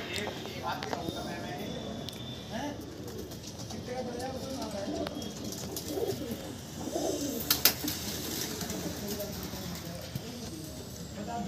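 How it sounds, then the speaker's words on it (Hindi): Madrasi pigeons kept by a fancier coo softly and repeatedly among flapping and shuffling, close by, under steady conversation from men nearby. "कबूतर है भाई"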